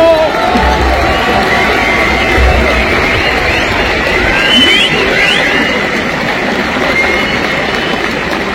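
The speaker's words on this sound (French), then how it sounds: "Un tonnerre d'applaudissements pour le doublé de Jordan T." A crowd at a French freestyle motocross championship event in Val d'Argenton cheers loudly for a rider's double win, a dense, steady roar of many voices with shouts rising and falling throughout, no clear break.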